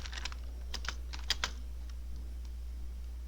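Fingers type on a computer keyboard, pressing an Alt Enter shortcut, a quick cluster of close, crisp key clicks near the start tapering to a few sparse taps over a low steady hum.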